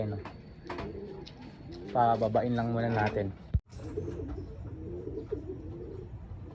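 Pigeons cooing close by in a loft during racing training in Nueva Ecija, their low burbling calls rising loudly midway, with someone speaking briefly over them.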